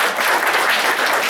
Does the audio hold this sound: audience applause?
yes